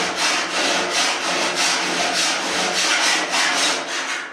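A hand file rasps back and forth across a steel body panel on a 1930 pickup cab, in a steady run of even, close, loud strokes.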